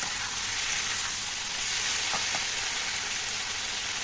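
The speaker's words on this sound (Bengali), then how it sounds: "একটু কচুটা তেলের ওপর নাড়িয়ে নেব।" Taro and prawns being stirred in hot oil, producing a continuous, even frying sizzle close by with a few faint utensil scrapes and no talking.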